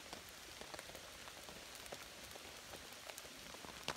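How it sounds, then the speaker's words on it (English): Steady rain falls on a campsite along the Appalachian Trail, with a dense, even patter of drops and a few sharper nearby splats. The sound stays constant throughout and no one speaks. "It's raining pretty steadily now"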